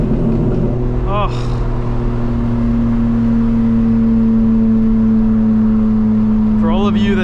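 2025 BMW M4 Competition with the S58 engine droning steadily from inside the cabin on a sunset drive, a constant loud hum under brief bursts of a person's voice.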